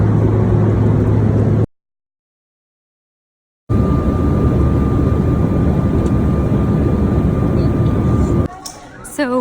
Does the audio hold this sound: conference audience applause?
no